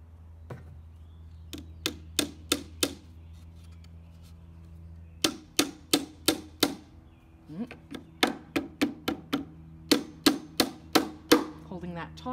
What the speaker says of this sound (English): I'll pound that in before I cut it.